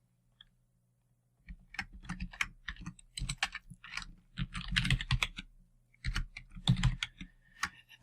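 Quiet, close computer keyboard typing while entering code, irregular bursts of key clicks with short pauses, and no voice over it.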